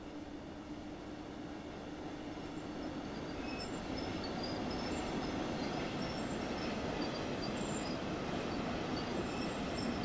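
A train pulling out of a station in Train Sim World 3, a continuous loud rolling rumble with faint wheel squeal and rail noise that holds steady and grows slightly as it gets moving.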